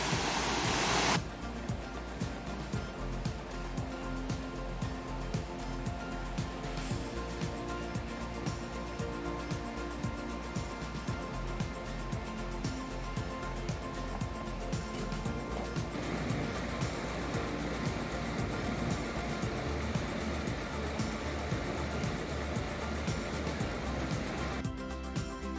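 Virginia Hawkins Falls on the Foothills Trail: a waterfall's steady, dense roar of rushing water that holds at an even level throughout, with no voices.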